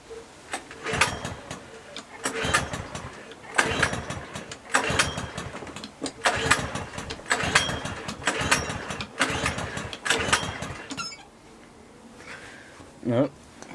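A small petrol engine being pulled over on a freshly fuelled machine with blocked jets, heard as repeated loud bursts of cranking that do not catch, each about a second long, followed by quieter handling noises.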